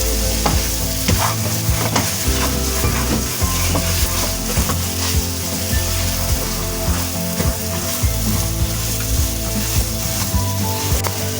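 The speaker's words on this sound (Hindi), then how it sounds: "किशमिश और बादाम और जो हमारे पास कोकोनट थे वो सारा कुछ इसके अंदर हम मिक्स कर देंगे" Raisins, almonds and coconut being stirred into semolina halwa in a hot pan, with continuous sizzling and steady scraping strokes close up and no talking.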